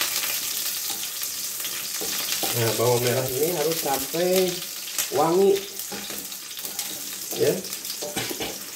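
Shallots frying in a pan for sambal terasi, a steady close sizzle with stirring that runs under someone talking through most of it.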